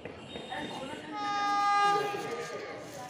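A train passes through a station platform with its steady rolling rumble, and a horn-like tonal blare rises and fades in the middle, loud and nearby.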